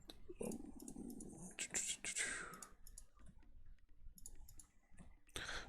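Quiet, crisp mouse clicks during a session of Supreme Ruler Ultimate, scattered singly and in short bursts, close up, with soft murmured speech in between.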